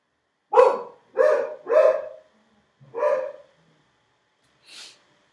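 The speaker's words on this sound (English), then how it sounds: "She's barking at them." A dog barks at people unloading things outside, four loud, close barks in an uneven run with short gaps, then a softer huff after a pause.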